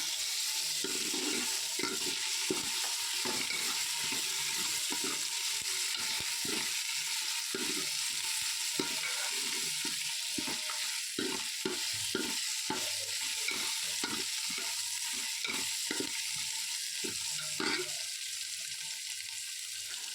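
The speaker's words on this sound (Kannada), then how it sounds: "ಶುಂಠಿ ಬೆಳ್ಳುಳ್ಳಿ ಪೇಸ್ಟ್ ಪಾಡ್ದೆ ಅವೆನಿತ ಲಾಯ್ಕಡೆ ಮಿಕ್ಸ್ ಮಲ್ತೊಂದುಲ್ಲೆ" Tyson chicken for sukka fries in a pan with ginger garlic paste while being stirred, a steady close sizzle broken by frequent rhythmic scraping and knocking of a spoon against the pan for about twenty seconds.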